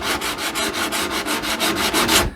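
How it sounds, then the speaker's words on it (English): Rhythmic back-and-forth rasping of a power finger sander working on the wooden dagger board trunk of a small Passagemaker dinghy, close and steady with about a dozen even strokes, no voices. "Only get so far with the power finger sander."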